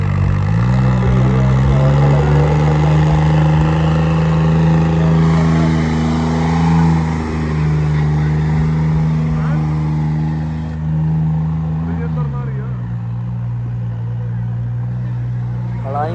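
A tractor engine drones loud and close at a tractor fair, a deep steady throb with rising and falling revs and a dip near the end, while people talk over it.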